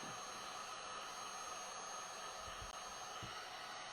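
A hair dryer on its low setting blows over decoupage paper on a fabric tote bag, a steady even airy hiss running throughout without change, close and with no talking.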